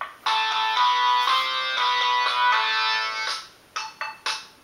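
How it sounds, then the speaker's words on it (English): A child's mobile phone ringtone goes off indoors, a loud, bright tonal melody of sustained notes for about three seconds, then cutting out into a few short bursts, with no talk over it. "Nothing like your child's phone going off in the middle of your video to make your day."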